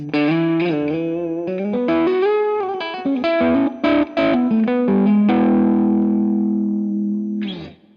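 An electric guitar fitted with LSL pickups plays through distortion, a loud saturated lead line of sustained and bending notes that ends on a long ringing held note before a brief final strum.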